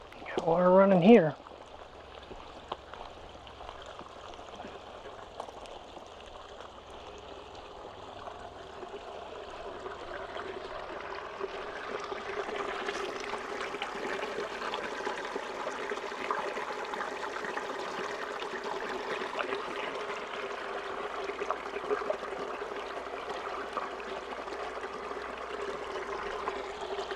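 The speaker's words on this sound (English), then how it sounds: "Got water running here." Running stream water at Weiser State Park trickles and rushes steadily after a short louder burst at the start, the flow swelling fuller and brighter about halfway through.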